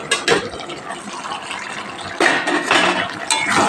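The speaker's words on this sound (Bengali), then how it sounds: "এবার আমি ঢাকাটা খুলে দেব" A lid lifted off a pot of drumstick and potato curry simmering on a medium flame, with metallic clinks and a sudden surge of bubbling, hissing liquid partway through.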